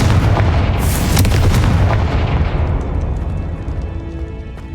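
Confringo fire spell blast in the Hogwarts Legacy video game, a loud booming burst with a bright crackle near the start that rolls off into a long fading rumble, alone with no talk.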